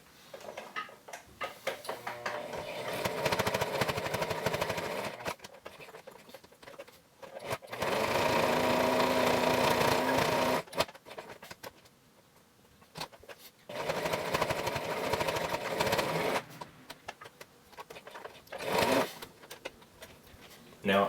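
A sewing machine stitches along the edge of a fabric face mask in several steady whirring runs separated by short pauses, with someone talking during the breaks.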